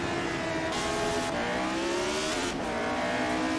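A 1975 Formula 1 car drifting in Assetto Corsa at the Austrian circuit, its engine screaming at high revs with a continuous sliding tire squeal, loud and close throughout.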